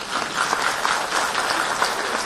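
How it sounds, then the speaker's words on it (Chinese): An audience applauds steadily at a question-and-answer session at Shanghai Jiao Tong University, sending off a visiting Khenpo; dense, even clapping fills the whole stretch without pause. "我们以热烈的掌声，我们迎送欢送堪布离场"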